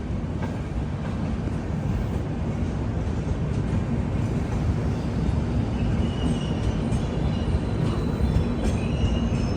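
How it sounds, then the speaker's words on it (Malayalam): The Saraighat Express rolls into Kishanganj station on platform 2, a loud continuous rumble of wheels and carriages with faint squeals, close by and steady throughout. "ബീഹാറിലെ ഈ ട്രെയിനിൻ്റെ ഒരേ ഒരു സ്റ്റോപ്പായ കിഷൻഗഞ്ചിലേക്ക് ഇതാ ട്രെയിൻ എത്തിക്കൊണ്ടിരിക്കുകയാണ്."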